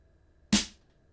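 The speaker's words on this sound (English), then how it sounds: "Now it's time to show the next sound, the snare drum sound." A single sharp snare drum hit from a Korg Triton synthesizer's BD and SD kit 1 cracks out bright and snappy, then decays quickly into quiet.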